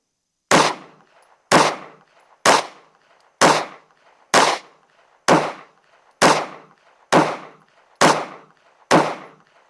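Ten evenly spaced gunshots from an Anderson Kiger-9C handgun firing 115 grain rounds, each a sharp, loud crack with a short decaying tail, about one second apart and nothing else in between.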